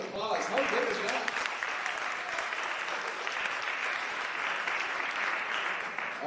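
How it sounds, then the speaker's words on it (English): At a high school staff talent show, an auditorium audience gives a sustained round of applause, a dense, even wash of clapping, with a voice briefly heard at the start before the clapping takes over. "Let's give them all one more round of applause."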